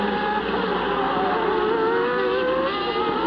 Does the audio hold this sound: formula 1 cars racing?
yes